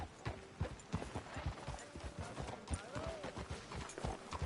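Horse hooves clip-clopping in a video game, a steady rhythmic series of sharp hoof strikes at walking pace, fairly close, with faint tonal voice-like sounds drifting over them.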